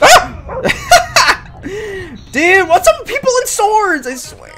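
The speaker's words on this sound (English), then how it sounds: "That's a dog." A dog barks in a video game, several sharp yips and barks with whining, rising-and-falling tones spread across the clip, loud and close, mixed with someone talking over them.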